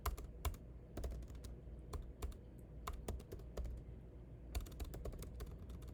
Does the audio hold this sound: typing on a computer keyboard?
yes